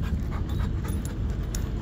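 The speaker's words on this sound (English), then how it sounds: "I've never met this dog before." An XL Bully dog pants quickly and steadily at close range during a training session, quiet and rhythmic, with no voices.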